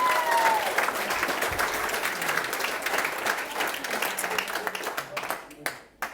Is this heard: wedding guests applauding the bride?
yes